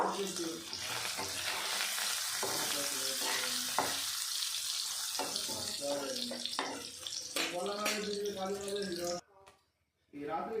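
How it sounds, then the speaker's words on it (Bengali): Paneer frying in oil, a close sizzle with stirring clatter under a voice, cutting out briefly near the end. "পনিরটা আমি হালকা লাল করে ভেজে নেব"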